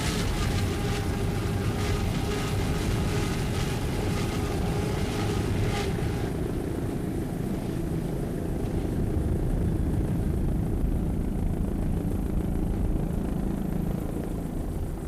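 Team Virgin racing powerboat driven by two 750-horsepower Mercury inboard engines during a 2002 offshore race, a steady, dense roar blended with rushing wind and water that holds unbroken for the whole stretch with no voices.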